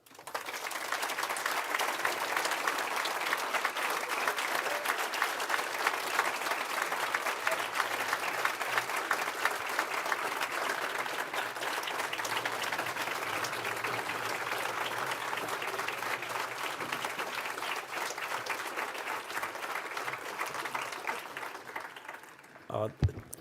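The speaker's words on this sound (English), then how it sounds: "Please join me in a round of applause to thank her for all she has done." A conference audience claps steadily and densely for over twenty seconds, a continuous even wash of applause that fades out abruptly at the end.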